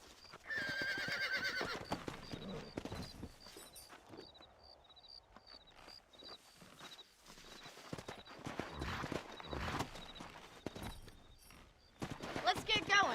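Horses in Red Dead Redemption whinny loudly at the start and end, with rhythmic clip-clop of hooves and scattered clatter in between; quiet game-like ambience.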